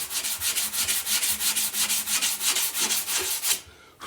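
Sandpaper works back and forth across a wooden guitar neck in a shoe-shine motion, making rapid, rhythmic rasping strokes that stay loud and close before stopping abruptly near the end.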